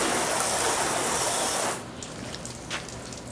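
Water from an open-end hose nozzle sprays hard onto a 1990 Nissan 300ZX with a loud, steady hiss and gush, then cuts off abruptly into quiet dripping and trickling runoff.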